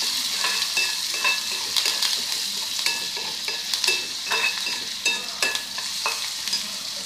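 Onions sauté in hot oil for a quail roast, a close, steady sizzle punctuated by repeated rhythmic scraping and clinking strokes of a spatula against the pan.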